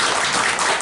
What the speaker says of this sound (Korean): 우리 축하 박수.